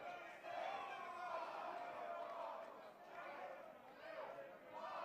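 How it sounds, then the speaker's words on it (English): A crowd at a beer pong tournament chants 'Midwest' for a team from St. Louis in rhythmic, rising waves of voices, fairly distant and faint. "They're chanting Midwest for a team from St. Louis."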